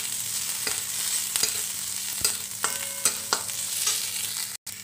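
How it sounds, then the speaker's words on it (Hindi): Chopped onion and green chilli fry in a pan for a veg frankie filling. A continuous oily sizzle is broken by several sharp scrapes and knocks of a stirring spoon, heard close and alone. "अब हम प्याज डालेंगे, इसे हल्का सा ब्राउन करना है।"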